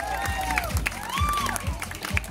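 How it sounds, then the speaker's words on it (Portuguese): A crowd at a school award ceremony applauds a former student who placed first, with steady close clapping mixed with whoops and cheers. "Salva de palmas, Alex, nosso ex-aluno."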